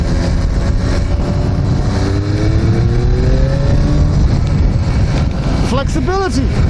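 A Suzuki GSX-R 1100 motorcycle engine accelerating hard in fourth gear while riding, a loud continuous rising roar with wind rush, and a rider's voice talking over it.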